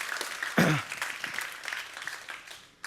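Audience applause follows a live product announcement at a sales software presentation, a broad clapping wash lasting a few seconds with a brief vocal shout near the start.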